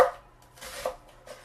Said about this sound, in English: I just like to cut these into thin julienne pieces.